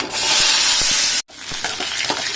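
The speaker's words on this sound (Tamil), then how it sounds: "நல்லா வதக்கிக்கலாம்" Shallots, tomato, drumstick and brinjal sizzle loudly in a hot oiled pan, a bright steady hiss that cuts out briefly, then resumes softer with scraping stirs and crackles.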